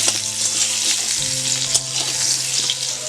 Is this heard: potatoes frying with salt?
yes